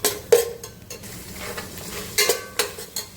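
Vegetables with chickpeas, peas and black beans are sautéed in a pan, with a spatula scraping and clinking in uneven strokes over a soft sizzle, close and with no voices.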